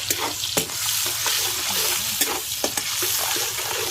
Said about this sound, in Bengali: পেঁয়াজটা একটু ভালো করে ভেজে দিতে হবে।